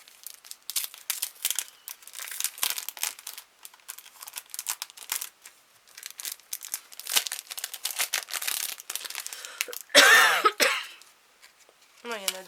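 A happy mail package is opened by hand, with dense crinkling and tearing of paper in quick, close bursts, some coughing or throat clearing, and a sharp crackle near the end.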